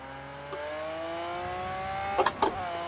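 A Lamborghini Aventador engine revs in Project Cars 2, played with a racing wheel, shifter and clutch. The steady engine note climbs in pitch, then a few sharp clicks and knocks sound near the end.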